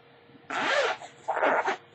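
Zipper on a cycling backpack pocket, two quick pulls of an angled zipper with a short pause between, close and clear in a quiet room.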